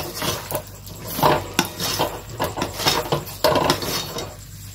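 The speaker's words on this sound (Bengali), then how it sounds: "আম যে ভেজে রেখেছি আমগুলো দিয়ে দেব। এগুলো দিয়ে ভালোভাবে নাড়াচাড়া করে দেব" Fried mango pieces are turned in melted sugar in a pan, with repeated close clattering scrapes of a utensil against the metal in an uneven rhythm and no talking.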